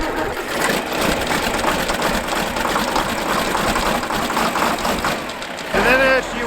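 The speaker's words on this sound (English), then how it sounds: "And then as she warms up, the engine just starts to purr." A diesel tractor engine running at idle, a close, steady mechanical chugging that holds throughout, with a brief higher-pitched squeal near the end.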